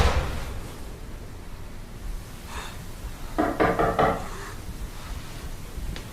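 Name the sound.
knocking on a door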